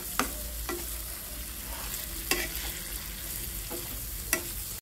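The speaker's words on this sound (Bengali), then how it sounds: "এখন মশলাটা একটু কষিয়ে নেব।" Ground spices (cumin, coriander, chili and turmeric powder) fry in a pan as a spice paste, with a soft continuous sizzle and sharp scraping stirs every second or so, close up and without talk.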